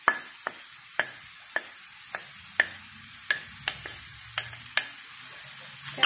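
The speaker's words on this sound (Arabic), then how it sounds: "كنحاولو أننا نخلطو هاد الجزر و الكورجيت" Sliced carrot and zucchini fry with softened onion in a pan, sizzling steadily while a utensil scrapes and taps against the pan in a dozen sharp, irregular strokes, close and clear, with no talking.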